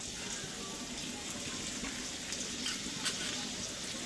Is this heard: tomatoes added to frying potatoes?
yes